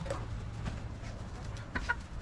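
Chickens cluck in short bursts over a steady low rumble, with a couple of sharper calls near the end.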